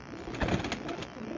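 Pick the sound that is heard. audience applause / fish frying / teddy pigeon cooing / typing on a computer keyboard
teddy pigeon cooing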